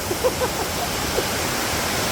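Sangbay Falls in Pugo, La Union, swollen with rainy-season water: a steady, dense rushing roar of falling water fills the clip, close and constant, with faint splashes on top.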